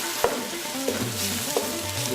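Onions and spices for channa masala frying in a pan and catching on the bottom, a close, steady sizzle with a few soft scrapes of the spoon.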